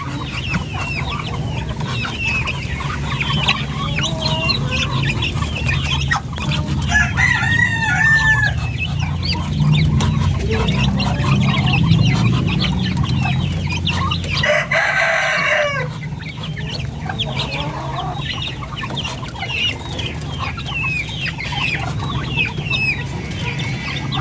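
Flock of young chicks feeding on commercial feed, with a dense, continuous chorus of cheeping and clucking close by and no voices over it.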